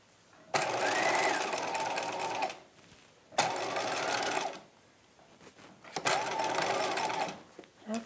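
A sewing machine stitches a princess seam on a '50s halter dress bodice in three long, steady runs with short pauses between them, close and loud, with no talking.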